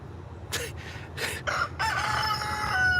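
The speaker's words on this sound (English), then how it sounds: "Neighbor's chickens" A neighbor's lone rooster crows in a series of short bursts, moderately distant and faint over steady outdoor background noise.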